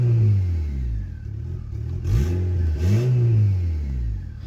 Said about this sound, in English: So it starts up. It's still got its jumpy idle from the idle valve